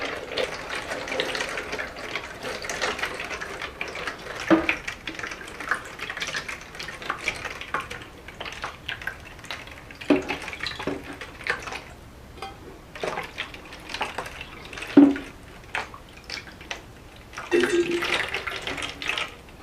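Water poured from a jug into a vase for pilea, philodendron, pothos and begonia cuttings, a continuous splashing, gurgling trickle close by for nearly twenty seconds, with occasional clinks and small knocks.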